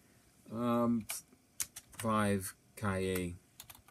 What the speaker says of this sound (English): We can go through this by simply typing in an address.